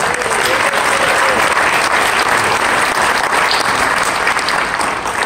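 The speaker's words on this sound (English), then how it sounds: "Give that whole round of applause." Audience applause at the NAMM music trade show awards, a loud, dense and continuous round of clapping from a crowd, steady for about five seconds.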